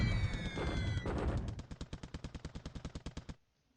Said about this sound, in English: he's bombing Bandung